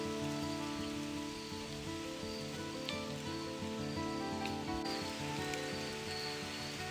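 Steady rain patters on surfaces during an October hike in Big South Fork, Tennessee, a dense continuous hiss with scattered louder drops, no talking.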